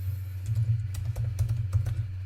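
Rapid, uneven tapping of code typed on a computer keyboard, close and fairly clear over a low hum, with no voice.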